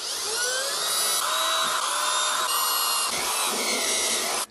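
A drill bores bolt holes in cast aluminum bronze, making a loud, continuous high-pitched metallic whine that holds steady for several seconds and then cuts off abruptly.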